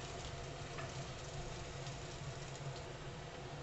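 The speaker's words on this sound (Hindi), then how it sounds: "अब मेरी सारी सब्जी अच्छे से भुन चुकी है" Vegetables roasting in a pan for dalia give a steady faint hiss of sizzling with no pauses.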